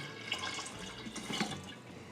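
A gallon of water poured from a jug into a home brew container for a British bitter, a short close splashing gush that lasts about two seconds.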